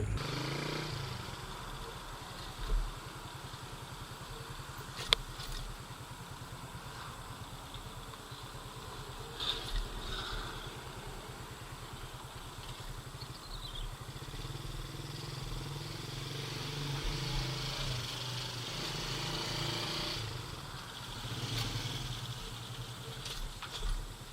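A small motorcycle engine running steadily nearby at a low, even idle-like hum for the whole stretch, with a few faint clicks and bumps over it.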